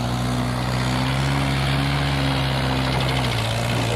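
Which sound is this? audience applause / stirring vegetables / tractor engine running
tractor engine running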